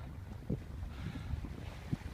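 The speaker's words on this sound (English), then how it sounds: "It was super windy today, which is a great day for sailing." Strong wind buffets a sailboat with the sail up, a steady rushing roar with low thumps of gusts against the microphone and faint water noise beneath; no voices.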